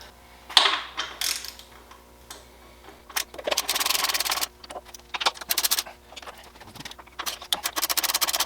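A ratchet loosens the fuel tank bolts on a 1986 Honda Rebel 450 (CMX450C) motorcycle, heard as close, loud bursts of rapid ratcheting clicks broken by short pauses, with a faint hum beneath.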